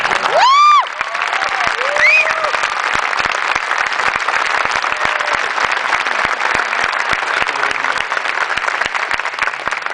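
A crowd at a Texas High School Football Hall of Fame induction gives a medical doctor inductee a sustained round of applause with some whoops and whistles at the start. The clapping is dense, steady and close throughout.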